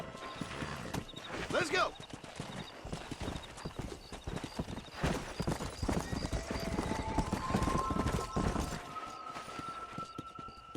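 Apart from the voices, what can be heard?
horse galloping, hooves clip-clopping, from Red Dead Redemption video game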